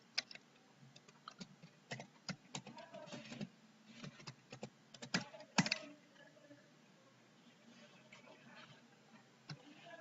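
Someone types a command into a terminal on a computer keyboard, producing quick, irregular bursts of close, crisp key clicks that thin out to a few scattered taps near the end.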